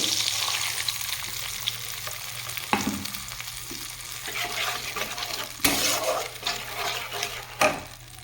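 A spice paste of poppy seed, cashew and green chilli sizzles steadily in a pan for a Bengali rui posto, with stirring scrapes and a few sharp clanks of the spoon against the pan.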